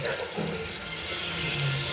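A toilet tank with newly repaired fittings flushes, giving a steady, loud rush of water throughout.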